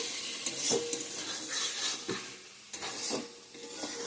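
Mustard paste sizzles and fries in a pan for a bean dish while a spoon stirs it, scraping and clinking against the metal. The sound is soft and close, steady sizzling broken by repeated stirring strokes.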